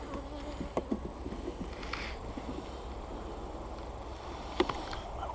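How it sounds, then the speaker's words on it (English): A crowd of honeybees buzzes continuously during a hive inspection, a thick, close drone with occasional sharp clicks and taps from tools and frames. "Okay, lots of bees."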